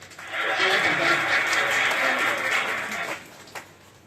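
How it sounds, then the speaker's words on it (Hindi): Applause from an audience at a government launch ceremony, a dense, steady clatter of clapping lasting about three seconds before fading out, with no voices over it. "तालियों की गड़गड़ाहट से"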